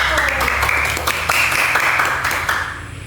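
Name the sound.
classroom students clapping for a group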